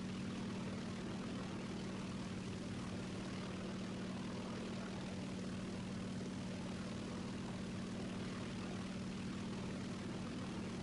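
A propeller warplane engine, apparently a Sturmovik in the War Thunder combat game, drones at a steady, loud, unbroken pitch throughout, with no talk over it.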